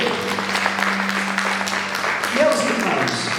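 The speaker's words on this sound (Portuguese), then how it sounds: "Pode aplaudir a Ele." Church congregation applauding during a worship service, a steady broadband wash of clapping at fairly loud level, with a voice speaking over it near the end.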